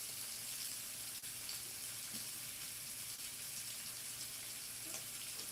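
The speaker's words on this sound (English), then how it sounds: "that sizzle gets me going" Steady, faint hissing sizzle of chicken tenderloins frying in a pan, continuous with no talking over it.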